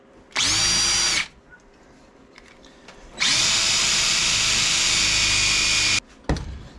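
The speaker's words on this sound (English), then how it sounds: "drill a hole in the center of it" A power drill boring a hole in a center-punched metal piece while making a motorcycle clutch tool, running loud in two long whirring bursts with a short pause between and a brief final spin.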